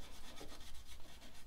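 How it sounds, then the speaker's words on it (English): Quick, rhythmic rasping strokes of hand-sanding a metal engine surface, faint and close, repeating several times in a short burst. "Give this a little sanding."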